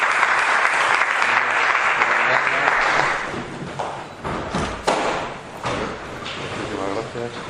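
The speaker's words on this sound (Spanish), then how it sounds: "Pues le damos un fuerte aplauso." Loud, dense applause from an audience at the close of a talk by Florentino Portero Rodríguez, steady for about three seconds then thinning into scattered claps, thuds and shuffling with voices murmuring.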